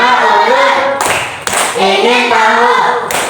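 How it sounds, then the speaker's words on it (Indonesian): Rhythmic group clapping from a class during a concentration clap routine, with sharp bursts of claps separating stretches of children chanting together, loud and close. "kita akan melakukan tepuk konsentrasi."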